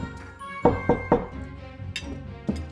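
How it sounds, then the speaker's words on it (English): Three quick knocks on a door in a royal dining room, clear over soft background music, with a lighter tap a moment later. "suddenly a knock on the door"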